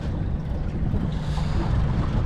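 Wind blows hard across the microphone on an Alaska char fishing trip by the water, a continuous low rumbling buffet with no talk.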